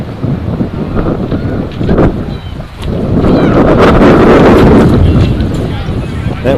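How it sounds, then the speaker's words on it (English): Strong, gusting wind buffets the microphone at an outdoor T20 cricket match, a broad roaring rush that dips briefly and then swells louder and steadier for several seconds. "That wind is really gusting up now, quite strong."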